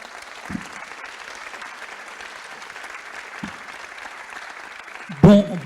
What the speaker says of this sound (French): On peut les applaudir tous les 5.